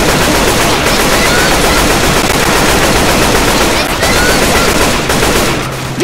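Sustained automatic gunfire with explosive rounds in the video game Left 4 Dead 2, a loud, dense, unbroken roar of rapid shots and blasts lasting the whole stretch and tailing off only at the very end.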